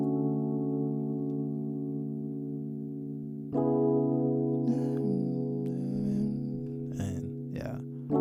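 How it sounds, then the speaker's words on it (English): A vintage electric piano from Kontakt's Vintage Keys library plays sustained chords in a trapsoul beat, with a chord change partway through and brighter percussive hits joining near the end. "I used an electric piano from Contact 5 inside the vintage keys, and it sounds like this."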